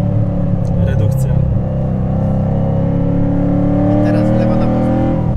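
A 704 hp Corvette Z06 accelerates with its exhaust opening up above 4000 rpm, a loud, close engine roar with rising harmonic tones, while people talk over it.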